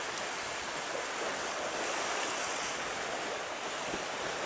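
Adriatic Sea waves on the Croatian coast wash in as a faint, steady broadband surf hiss with some wind, continuous and distant, with no voices.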